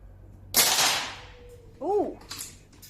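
An air rifle pellet smashes a piece of chalk at an outdoor shoot, giving one sharp, loud crack that fades quickly. A short, chirp-like sound and a few softer knocks follow.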